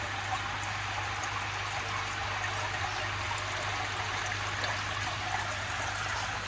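Water drains steadily out of an Evolution Aqua Nexus 220 aquarium filter, a constant close trickling rush with a low hum underneath, unbroken from start to end with no talking.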